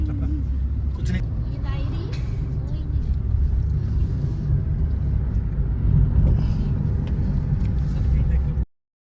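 Inside a moving van on the road near Rohtang Pass, a steady low engine drone and road rumble fill the cabin, loud and continuous until an abrupt stop, with faint voices mixed in.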